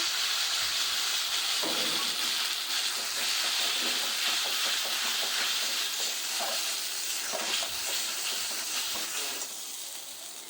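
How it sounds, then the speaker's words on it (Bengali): Spice paste fries in a pan with a steady hissing sizzle, broken by occasional stirring scrapes, fading slightly toward the end. "আর এখানে মশলাটা এখন আমি কষে নেব"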